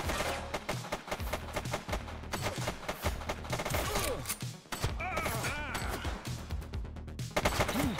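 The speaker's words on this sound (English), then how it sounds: "She's shooting!" Gunfire in a police simulator video game: rapid bursts of close, loud shots crackling in quick succession across the whole stretch, with faint voices mixed underneath.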